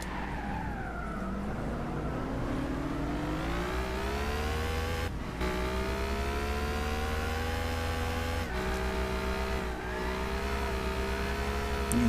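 A Cizeta V16 T in Gran Turismo 6 revs hard and steadily, its engine whine climbing through the gears with brief dips at each shift, loud and close throughout.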